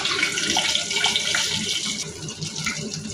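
Eggs frying in about four spoons of hot oil with turmeric give off a steady, close sizzle and hiss, with small crackles popping through it for the whole stretch and no voices.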